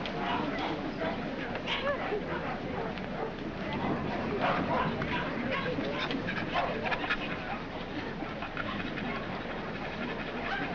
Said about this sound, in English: I can stand one dog, but this bedlam is getting on my nerves.